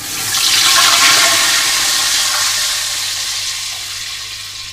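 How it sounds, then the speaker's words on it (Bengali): Ginger and garlic water poured into well-heated oil for chicken biryani gives a loud, steady rushing sizzle that swells quickly and then slowly fades over several seconds, with no talking. "এবার যে আদা আর রসুনের জলটা বানিয়ে রেখেছিলাম সেটা দিয়ে দেবো"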